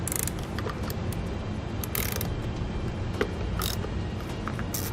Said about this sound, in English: we'll use a 13mm socket to remove the nut on the stud